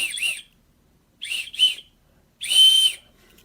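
Three shrill blasts from the built-in whistle of a Victorinox Whistle Knife, each short and piercing, the second doubled and the last held longest, close and loud with silence between.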